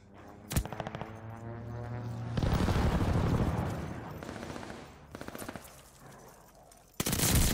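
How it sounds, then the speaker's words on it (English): Airstrike and gunfire in the Call of Duty Vanguard video game, with a V2 rocket in play: sharp bursts of automatic fire and gunshots, then a loud rumbling blast in the middle and another burst near the end, all close and loud. "sending an airstrike"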